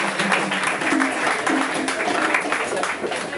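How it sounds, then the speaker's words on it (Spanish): Audience applause at a live jazz concert greeting the pianist as he is introduced on stage; dense, steady clapping fills the hall at moderate loudness throughout. "Un aplauso, por favor."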